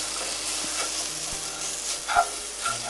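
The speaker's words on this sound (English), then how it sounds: "The crushed low protein mixed herb cracker. Start to mix that up." Crushed low-protein mixed herb crackers being stirred into a dry stuffing mixture for roasted filled tomatoes: a steady, close scraping and rustling with a few sharper clinks near the end, no voices.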